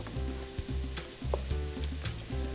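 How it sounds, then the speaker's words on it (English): Beef and lamb browning with onions in a pan, giving a steady close sizzle with occasional stirring scrapes and low rumbling, no voices. "what I'm doing here is just browning the meat for about 8 to 10 minutes, along with the onions"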